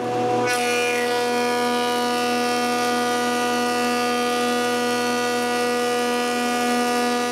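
A new power tool starts up and runs at a steady, loud, droning whine with strong tonal harmonics while ripping strips from a jointed wooden board, with no talking.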